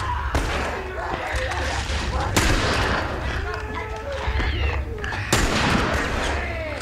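Heavy gunshots in The Last of Us, three sharp, loud reports spaced a couple of seconds apart over a busy game soundscape, with someone talking in between.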